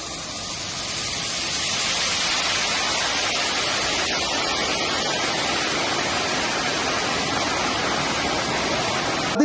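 Water gushes from an opened shutter of Ponmudi dam during heavy monsoon rain, releasing about 15,000 litres per second, as a loud, steady, broadband roar that swells over the first two seconds and then holds constant.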